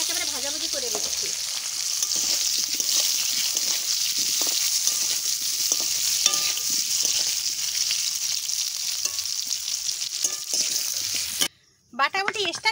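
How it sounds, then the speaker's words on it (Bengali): Potatoes frying in oil rendered from fish, a continuous close sizzle with stirring scrapes, loud and steady before cutting off near the end. "আলুটা ভাজা করে তুলে রেখে দেবো, এই জন্য এই তেলে একেবারে ভাজাভুজি করে দিচ্ছি।"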